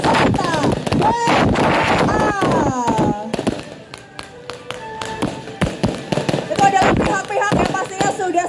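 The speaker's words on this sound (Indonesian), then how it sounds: "disuguhi oleh pesta kembang api dari" Fireworks display over the Pamedan at Mangkunegaran in Surakarta during a Cap Go Meh celebration, with repeated sharp bangs and thuds crackling through a steady crowd din and outdoor wind, loud and close.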